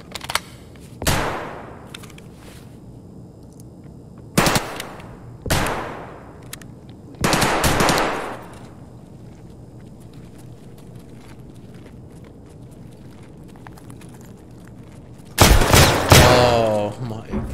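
Gunfire from shotguns in the video game Escape from Tarkov, several loud sharp blasts spaced a few seconds apart with echoing decays, a heavier cluster near the end, and quiet game ambience and faint footsteps between them.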